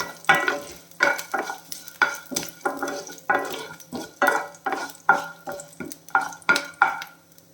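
Mustard seeds, toor dal and urad dal frying in hot oil for a quick sambar without vegetables, heard as a rhythmic series of about fifteen stirring strokes in the pan, each a short burst of crackling sizzle and scraping, close and clear.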